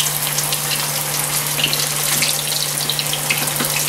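Breaded pork chops sizzle in a hot frying pan, a steady, loud, close crackling hiss that runs unbroken throughout.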